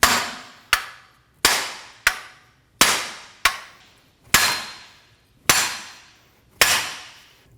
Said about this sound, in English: Using a hammer, we're going to hit the wheel bearing out of the backing plate.